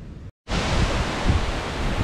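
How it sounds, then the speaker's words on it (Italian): Strong wind blows through a mixed Turkey oak wood in October, a loud, continuous broadband roar that starts after a brief gap and holds steady with slight gusting. "Cerro, ragazzi, sentite che vento."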